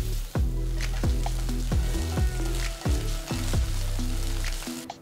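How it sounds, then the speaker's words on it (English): Onions sautéing with curry leaves and ginger garlic paste for a prawn pepper fry, a steady close sizzle with a few faint clicks of a spoon against the pan. "Sauté the onions till they are nice and brown"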